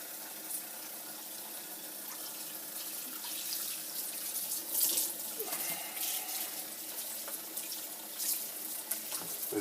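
Cold water runs from a tap while a freshly filleted northern pike, an 11-pound fish, is rinsed of blood along the spine, a steady splashing flow with irregular spatters, alone and moderately close.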